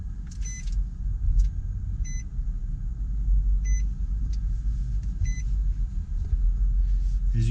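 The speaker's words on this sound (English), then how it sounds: "And if we start the car" A 2019 Nissan Murano SV mid-size SUV starting up, a low steady engine rumble that continues throughout, with several short electronic dashboard chimes beeping over it and no one speaking.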